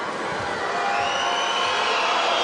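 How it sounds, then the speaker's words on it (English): A Serbian basketball crowd reacts loudly to a missed free throw by Russia, a broad wash of cheering and whistling that swells and holds for a few seconds. "You can hear what the Serbian crowd think about it."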